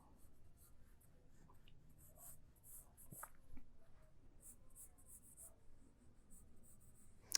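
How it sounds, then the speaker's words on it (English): A pencil scratches faintly across paper while sketching front bumper details on a sports car drawing, with short strokes in an irregular rhythm heard up close in a quiet room. "I'm starting to sketch some of the design elements of the front bumper."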